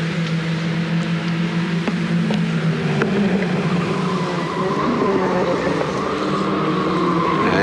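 1985 Ford Laser race cars run at Amaroo Park, a continuous engine drone with shifting pitch and a faint wavering whine as the cars pass, steady and fairly loud, with no voices over it.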